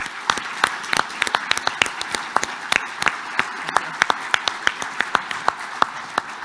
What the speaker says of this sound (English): if we could just give everybody a round of applause for those people that have worked very,